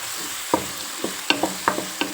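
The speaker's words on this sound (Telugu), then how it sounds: "ఇది బాగా వేగనిద్దాం" Ingredients for a raw prawn and chana dal curry fry in a pan with a steady sizzle, while a spoon scrapes and knocks against the metal in several sharp strokes over a couple of seconds.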